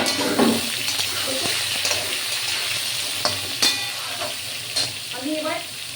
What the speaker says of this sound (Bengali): ঝিঙে দিয়ে এবার লবণ হলুদ দিয়ে নাড়াচাড়া করবো।